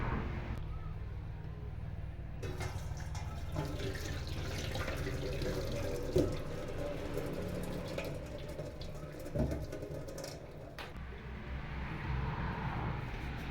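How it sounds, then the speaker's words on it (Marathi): Water being drained off part-boiled potatoes: a continuous soft pouring and splashing rush, fairly quiet and close, running for the whole stretch with a few small knocks of the pot. "आता आपण या बटाट्यातील पाणी बाजूला करून घेऊया"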